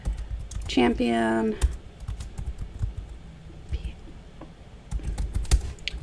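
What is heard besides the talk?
typing on a computer keyboard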